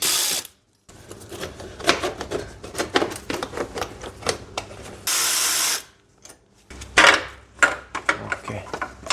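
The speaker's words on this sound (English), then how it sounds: "I have to remove this upper bolt." A bolt is worked loose on a wrecked BMW 540i with a ratchet, rapid clicking bursts interrupted by a short hiss of spray, close and loud, with no talk.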